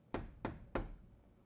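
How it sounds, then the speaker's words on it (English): Three evenly spaced knocks on a door in a jazz-age detective video game, hollow and solid, each thud sharp and close, with a short gap between them and quiet afterward. "Somebody knocking on the door?"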